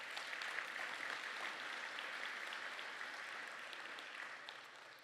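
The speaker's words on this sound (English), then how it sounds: "give me a round of applause for the committee" An indoor audience at a Rotary Club of Georgetown 60th anniversary celebration gives a steady round of applause, a dense wash of clapping that holds for several seconds before tapering slightly at the end.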